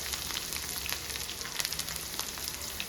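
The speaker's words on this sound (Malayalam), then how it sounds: "ഇവിടെ കടുക് പൊട്ടി വന്നിട്ടുണ്ട്" Mustard seeds pop and splutter in hot oil while chopped shallots fry for a Kerala-style pumpkin pulissery, a steady close sizzle with scattered sharp crackles.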